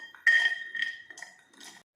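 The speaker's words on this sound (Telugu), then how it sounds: "దీనిని నేను గిన్నెలో వేస్తున్నాను" Grated jaggery tipped into a metal cooking vessel, giving a few bright clinks and scrapes of utensil on the pot, close and fairly quiet, with short gaps between the taps.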